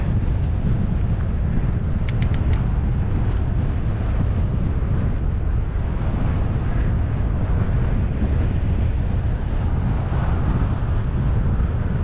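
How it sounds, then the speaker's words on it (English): Steady, loud wind buffeting rumbles across a microphone while cycling straight into a headwind on a Texas road loop, continuous throughout with a few brief faint clicks early on and no speech. "Straight into a headwind, and y'all can tell that it is a headwind because these flags up here to the left."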